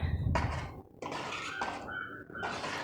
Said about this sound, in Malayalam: നമുക്ക് തുറന്നിട്ട് നന്നായിട്ടൊന്ന് ഇളക്കി കൊടുക്കാം